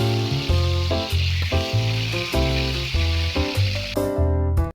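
Fish or other food frying in a home kitchen pan, a steady broadband sizzle running the whole time beneath louder background music with stepped tonal notes.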